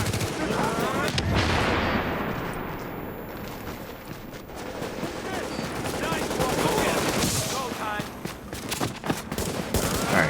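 Heavy gunfire from the online shooter Tom Clancy's The Division rattles in the Dark Zone, with dense overlapping bursts and booms running loudly throughout, close and continuous.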